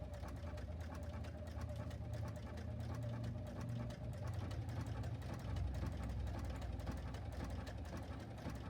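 A JUKI sewing machine stitches fabric for a pet Halloween costume, giving a steady, close motor hum with a continuous rapid needle chatter that runs unbroken throughout.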